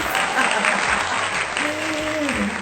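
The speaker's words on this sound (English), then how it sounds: "Clap for yourself." A small group claps for themselves during a Jamaican Patwa language lesson. The clapping is moderate and steady, with a voice speaking over it partway through.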